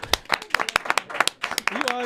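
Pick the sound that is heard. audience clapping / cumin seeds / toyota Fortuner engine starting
audience clapping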